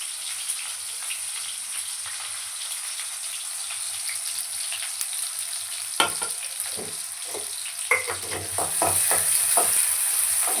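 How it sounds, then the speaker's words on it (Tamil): Onions fry in a pan for egg rice, a steady close sizzle broken by several sharp clattering stirs and spatters in the latter half, the hiss swelling louder at the end. "இப்போ வெங்காயம் போட்டுக்கலாம். பாருங்கள், வெங்காயம் போட்டுக்கலாம்."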